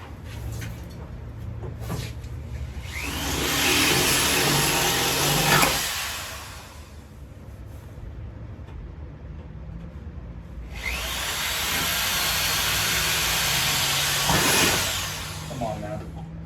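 Two long bursts of an electric drill whirring loudly, each several seconds, separated by a quieter pause with faint background noise.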